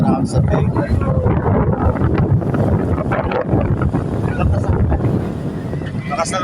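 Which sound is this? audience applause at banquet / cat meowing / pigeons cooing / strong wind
strong wind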